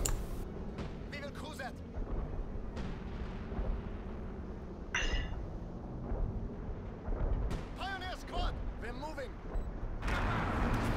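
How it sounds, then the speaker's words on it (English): Sector artillery shelling in the video game Company of Heroes 2, set in Lienne Forest: scattered booms and rumbling impacts over continuous battle noise, with players talking over it throughout. "Where's that artillery coming from?"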